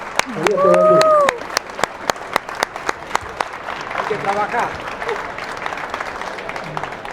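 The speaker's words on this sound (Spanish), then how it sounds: "Yo pido un aplauso para Naila y gracias por todo lo que nos enseñó" Audience at a book presentation clapping in a slow, evenly spaced rhythm of single sharp claps, with people talking and a voice calling out over the beat.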